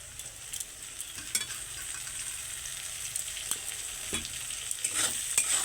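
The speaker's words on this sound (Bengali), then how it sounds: "ধনিয়া পাতা দিয়ে এটাকে একটু নেড়ে এবার এটাকে আমরা আলুর সঙ্গে মেখে নেব" Mashed potato and coriander leaves stirred in a hot kadai, a spatula scraping and tapping irregularly over a soft continuous sizzle, close by with no voices.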